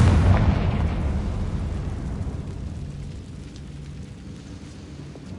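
A Confringo fire-blast spell bursting in Hogwarts Legacy, a loud booming explosion at the start that fades into a long rumbling decay and settles into a low, fairly steady roar.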